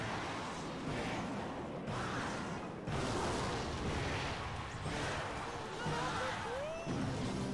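A rocket spell blasts in the video game Clash Royale among a dense, loud wash of in-game booms and impacts, with several thudding bursts and bright effects layered over continuous battle noise.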